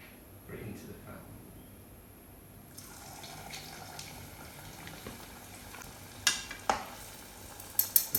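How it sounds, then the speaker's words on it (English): Churro dough fries in a pan of hot oil, a soft continuous fizzing and bubbling that gets brighter partway through, with a few sharp clinks of a utensil near the end. "So it's lots of fizzing, and you need to cook it until it's golden brown"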